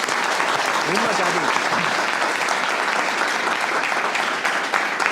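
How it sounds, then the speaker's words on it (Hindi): A room full of people breaks into sustained applause, a loud, continuous roar of clapping that lasts throughout, with a voice heard briefly beneath it near the start. "एक बार तालियां हो जाए यार इनके लिए"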